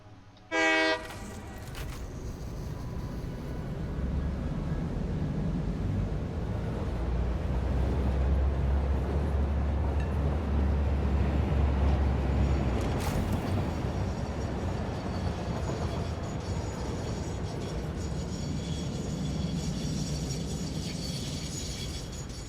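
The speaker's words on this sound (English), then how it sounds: "I'm gonna start this train" Train in the factory-building game Satisfactory starting off with a short horn blast, then a long rising rumble of wheels and clanking cars rolling along, steady and moderately loud with no talking.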